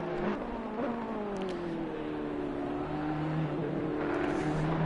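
Ferrari race car in Assetto Corsa Competizione at Monza, its engine droning steadily with shifting pitch as it laps, a continuous mid-level racing roar with other cars faintly around.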